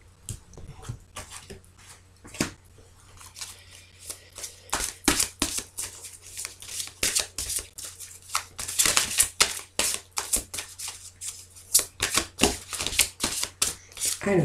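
A deck of tarot cards is shuffled and cut by hand, producing rapid, crisp riffling snaps that speed up into dense flurries, close to the listener, with a steady low hum underneath.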